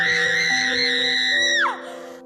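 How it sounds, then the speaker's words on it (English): A girl screams at the top of her lungs in one loud, sustained, piercing cry that holds steady before dropping sharply and trailing off, with a low tonal background underneath. "The girl screamed at the top of her lungs"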